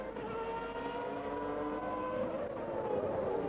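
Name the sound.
Williams Renault F1 car with RS5 V10 engine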